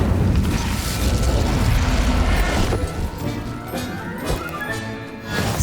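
Incendio fire spell cast in Hogwarts Legacy on Nintendo Switch: a loud, dense whooshing burst of flame with crackling and mechanical rattles, continuous for several seconds before tapering slightly.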